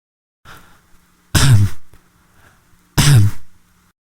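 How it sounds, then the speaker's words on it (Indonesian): Someone clears their throat twice, two short rough rasps separated by a pause, close and otherwise quiet. "suara sayup-sayup orang yang berdeham"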